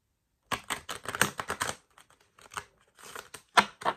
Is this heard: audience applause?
no